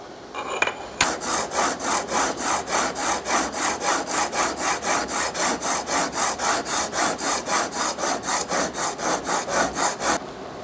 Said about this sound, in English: I will use my trend honing guide to sharpen the blade.